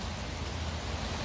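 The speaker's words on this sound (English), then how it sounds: "This is a soaking full of rain." Heavy, soaking rain falls steadily, a dense unbroken hiss with a low rumble underneath, close and constant with no voices.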